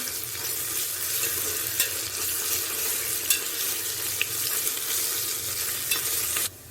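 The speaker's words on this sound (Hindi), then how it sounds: "अब डालेंगे इसके अंदर अदरक लहसुन का पेस्ट।" Ginger garlic paste fries in hot oil with a steady bright sizzle. A spoon scrapes and stirs through it now and then, and a final clack comes at the end. No one speaks.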